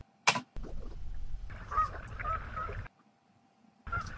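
A goose honks loudly as it takes off, a sharp call at the start followed by bursts of wing flapping and further honking, close to the microphone, with a gap of quiet in between.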